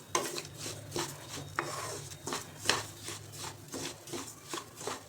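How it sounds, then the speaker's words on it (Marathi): Wheat rava roasting in a kadhai over a medium flame, stirred constantly: regular scraping strokes of a spoon across the pan at about one per second, close but quiet, over a low hum, with no speech. "सारखं हलवत राहायचं. असं छान भाजला पाहिजे"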